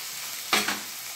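Chopped onion hits a pan of frying ginger and garlic, setting off a steady sizzle with a brief louder rush as it is stirred in.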